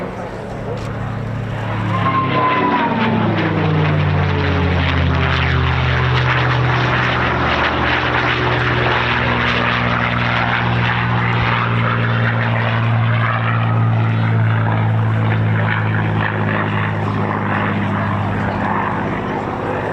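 Piston-engined propeller warbird running steadily at an airshow in the UK, a loud continuous drone with strong low harmonics that swells slightly over twenty seconds, with a voice talking over it throughout.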